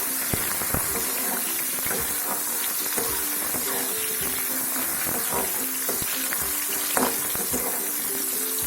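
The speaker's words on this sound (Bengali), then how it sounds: "আস্তে আস্তে ভাজা হবে।" Winter vegetables with a little turmeric and salt fry in a pan, a continuous close sizzle broken by scattered clicks and scrapes of stirring, with no talking over it.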